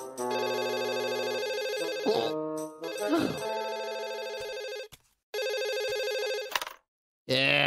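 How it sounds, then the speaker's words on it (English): A telephone rings in a cartoon with loud, harmonic electronic trills that repeat in long bursts broken by brief pauses, with short snatches of other cartoon sounds between the rings. "What took you so long to answer the phone today?"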